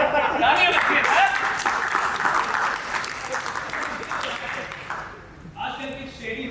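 Loud audience applause fills a theatre at a stage show, gradually thinning out, followed by a brief burst of speech at the end.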